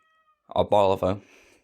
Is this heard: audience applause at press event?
no